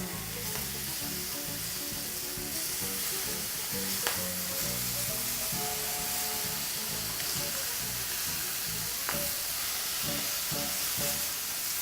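Pork chops just turned on a hot grill sizzle in a steady, loud, continuous crackle with faint pops throughout, and no talking.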